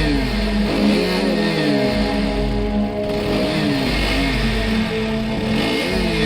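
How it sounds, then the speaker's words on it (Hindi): A cartoon scooter engine revs with a continuous buzzing whine whose pitch rises and falls in repeated swells. It is steady and fairly loud, with no talking. "तभी पॉटी बॉय शॉन स्कूटर से रॉड की तरफ आता है"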